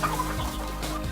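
Kadaknath chicken clucking, a few short close clucks in quick succession over a busy background, with no talk.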